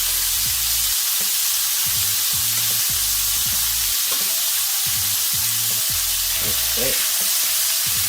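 Beef strips browning over high heat in a pan, loud steady sizzling and frying with rhythmic low knocks of a wooden spoon stirring; a brief word is spoken.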